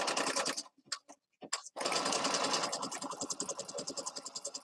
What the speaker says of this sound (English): I'll sew all the way around the outside edge